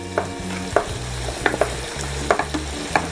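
Potato pieces go into a pan of frying bacalhau and are stirred, with soft sizzling under repeated scraping and clacking strokes of a utensil at an uneven rhythm, close and moderately loud, no voices.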